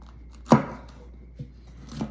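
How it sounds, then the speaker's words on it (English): Knife chopping a bell pepper into strips: one firm cut, then two softer ones spaced out, close up in a quiet kitchen. "the way I chop this, I chop a few long strips in it and then cut it sideways"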